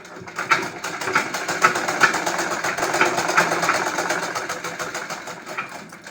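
Sewing machine stitching along the folded edge of a palazzo pant hem, a close, loud, rapid rhythmic clatter running continuously for about six seconds without talk.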